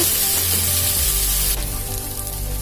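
An aval ragi dosa sizzles loudly and steadily on a hot pan right after being flipped, a dense close hiss with a brief shift in tone partway through, no voices.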